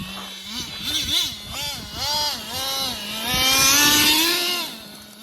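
A Traxxas Slayer nitro RC truck's small engine revs up and down repeatedly in quick, rising and falling bursts, buzzing loudly and close, with an idle-like hum at the start and end.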